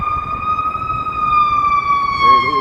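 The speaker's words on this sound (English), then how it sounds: "Comes the ambulance." An ambulance siren wails steadily on Michigan Avenue in downtown Chicago at midday, a clear sustained tone over low street traffic rumble, moderately near and without speech.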